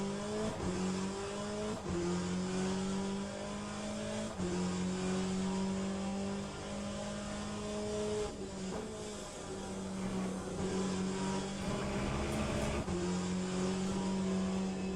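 An LMP2 prototype race car in Le Mans Ultimate drones at high revs with a small-four-cylinder, heavily turbocharged tone, pitch sweeping up through gears with brief dips at shifts, steady and close throughout without talk.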